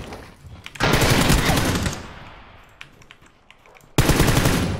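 M4 rifle fire in the battle-royale game PUBG: a sustained loud automatic burst of rapid shots, a quieter lull with scattered faint pops, then another sharp burst at the end.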